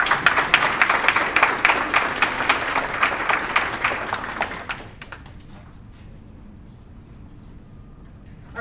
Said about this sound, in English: So if I get a round of applause for these hard workers.